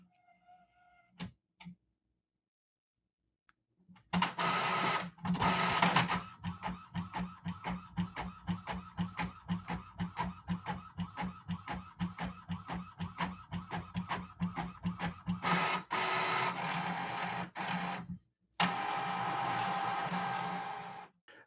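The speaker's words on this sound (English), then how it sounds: "There goes my printer." An Epson ET-4550 inkjet printer runs nearby, whirring up and then feeding paper with a rapid train of rhythmic clicks and mechanical buzzes, ending in a final whir.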